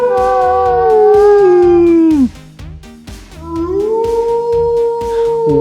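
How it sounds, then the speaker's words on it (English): A wolf howls loudly and close by: one long, sustained note slides downward and fades. After a short gap with faint whimpers, a second rising howl swells and holds steady. "This is a wolf."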